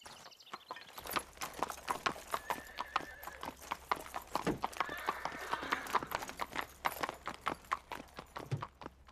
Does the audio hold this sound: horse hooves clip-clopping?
yes